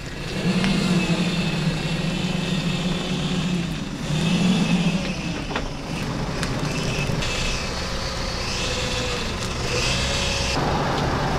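A vehicle backs up at close range, its engine droning steadily and loud throughout, with brief rattles and knocks over the running hum and no talking.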